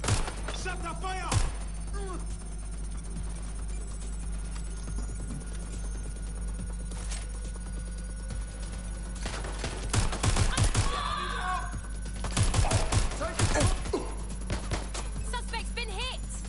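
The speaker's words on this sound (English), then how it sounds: "Gunfire!" Gunfire in the video game Watch Dogs: Legion: several sharp bursts of shots break out around the middle and again later, loud over a steady din of game ambience and chatter.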